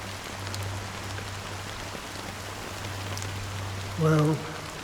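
Rain falling in the video game Honkai Star Rail, a soft continuous patter under a low steady hum, with a brief voice near the end.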